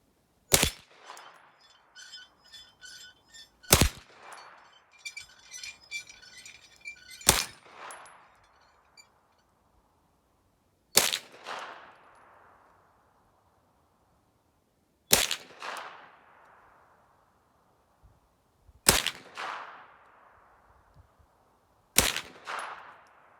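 Seven sharp, loud gunshots from a Hi-Point pistol fitted with a non-factory magazine, fired singly every three to four seconds, each with a short ringing decay.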